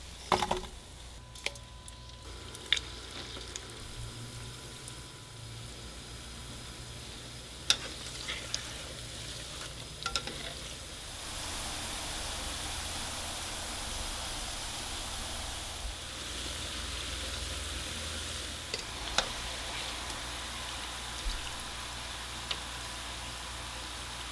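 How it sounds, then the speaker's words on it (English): Oil bubbles and sizzles steadily in a pot as sesame balls deep-fry, a quiet continuous fry, with occasional light clinks of a utensil. "finish frying up the second batch"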